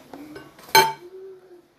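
A utensil mixing yeast into bread flour in a bowl for beignets: faint scraping, then one sharp, close metallic clink against the bowl that rings briefly and fades.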